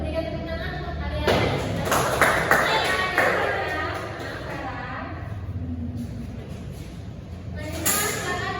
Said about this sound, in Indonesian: berikan tepuk tangan untuk kalian